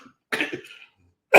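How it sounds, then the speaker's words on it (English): A person coughs twice: a harsh burst followed by a rougher, throaty tail, a pause, then another sharp cough at the end. The sound is close and loud, with no talking. "Sorry for the death cough there"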